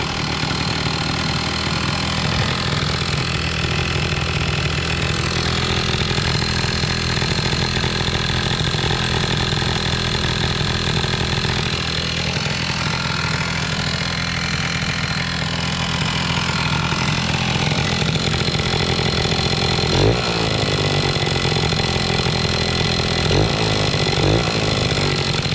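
A 100€ Booster scooter engine runs on its first start, loud and close, with a continuous buzzing two-stroke drone, heavy rattling and some fluctuating revs toward the end.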